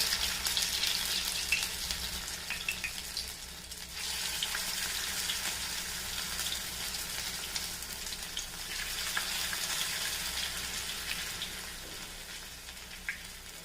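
Potato pakoda frying in hot oil, a soft, even crackle and sizzle with light stirring sounds, moderately quiet and continuous throughout.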